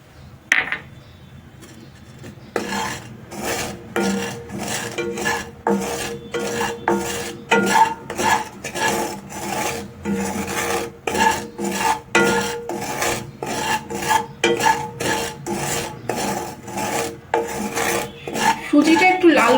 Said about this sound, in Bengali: এখানে 2 চামচ যে সুজিটা নিয়েছি সেটাই আমি কড়াইতে একটুখানি ভেজে নেব, শুকনো কড়াইয়ের মধ্যে